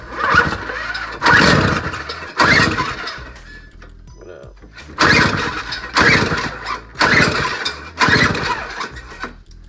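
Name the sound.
two-stroke snowblower engine trying to start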